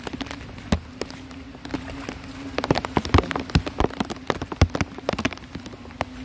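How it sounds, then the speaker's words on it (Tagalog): Heavy typhoon rain during Typhoon Carina patters unevenly on a hard surface, with scattered loud drops and taps over a steady background hiss and a low hum. "Ayun, lakas pa ng ulan."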